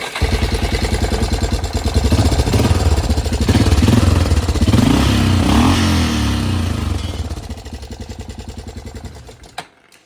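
A cheap used four-wheeler ATV engine runs close by with a pulsing, sputtering rhythm, revving up and wavering, then winds down and dies, followed by a sharp click and near silence.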